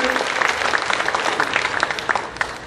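Church congregation applauding as two pastors come up to the front, a dense, steady patter of many hands filling the room with no clear break.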